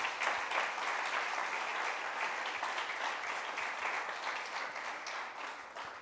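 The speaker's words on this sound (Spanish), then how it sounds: "Dele un aplauso al Señor." Congregation at a church service applauding in praise, a dense steady wash of many hands clapping that fills the room evenly, holding strong before easing slightly at the end.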